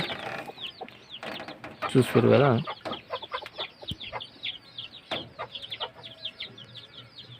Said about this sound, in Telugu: ఇదే మనం ప్రస్తుతం వేస్తున్నటువంటి కోళ్ళు ఉండేటటువంటి షెడ్.